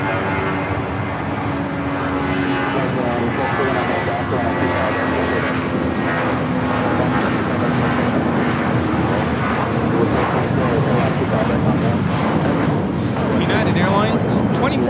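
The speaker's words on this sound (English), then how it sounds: "2431 taking off to Jackson on the A320" United Airlines Airbus A320 taking off at LAX, a strong engine roar with whining tonal layers building gradually over about fifteen seconds as people chat underneath.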